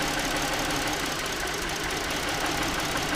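A 2008 Ford Edge engine idles roughly with a misfire from a melted ignition coil and faulty PCM. The close, steady mechanical drone carries a knocking texture throughout, with no talking.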